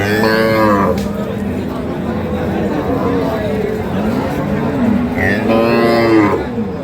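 At a crowded cattle market selling Sahiwal, Sindhi and local dairy cows with calves, several loud, drawn-out moos rise above the constant babble of people talking nearby.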